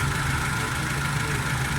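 Suzuki Cultus EFI car engine idling, a steady, even mid-low rumble that holds constant and loud throughout at close range, with no voices.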